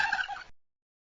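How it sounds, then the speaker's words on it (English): A turkey gobbles in a short, loud burst of rapid warbling calls lasting about half a second, heard alone and cutting off abruptly. "The turkey."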